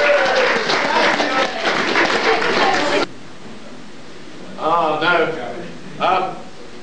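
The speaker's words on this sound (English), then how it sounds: "The gentleman deserves a round of applause." Brief applause and crowd chatter at a convention charity auction fill the first three seconds, then cut off abruptly, leaving quiet with short bursts of speech.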